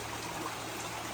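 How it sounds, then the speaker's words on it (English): A small creek flowing past a cabin along the Appalachian Trail near Max Patch, a close, steady broadband rush of running water with no pauses. "this is a little creek that comes right through here"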